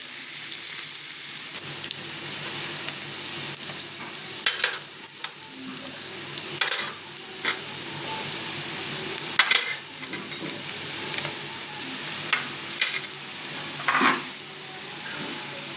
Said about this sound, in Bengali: এটা একটু সটে করে তারপর মশলাগুলি দিয়ে দেবো।